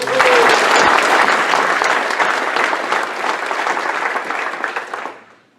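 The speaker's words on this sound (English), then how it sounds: "Let's give them a round of applause." An audience gives a sustained round of applause, dense and close, holding steady for about five seconds before tapering off at the end.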